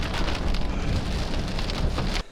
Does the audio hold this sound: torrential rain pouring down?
yes